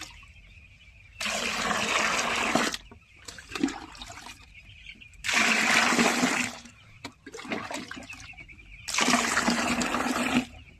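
Water is poured into a mixture being prepared as poultry feed, coming in several loud gushing bursts separated by brief pauses and quieter trickles, close by with no talk.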